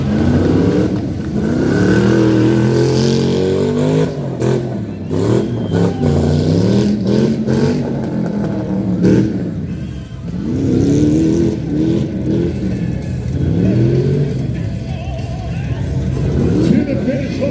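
Toyota tuff truck with a big LS V8 racing at a Tuff Truck Challenge, engine revving hard with rising and falling roars and bursts of acceleration, loud and close, under an announcer's voice.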